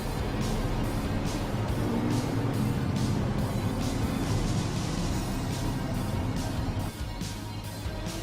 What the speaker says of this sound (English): these super late model series cars are pushing about 600 horses